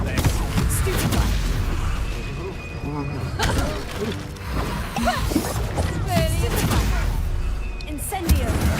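Fiery spell blasts from Hogwarts Legacy ring out in dense, repeated bursts amid a busy combat mix, with voices talking throughout.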